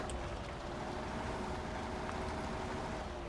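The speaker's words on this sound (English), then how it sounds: "The engine started." A diesel truck engine idles with a steady, dense rumble and hiss in the Mudrunner off-road driving game, continuous and unchanging throughout.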